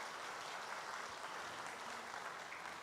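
Sustained audience applause fills a family church worship service in Malang, a steady even wash of many hands clapping with no voices on top.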